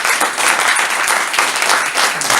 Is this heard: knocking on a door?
no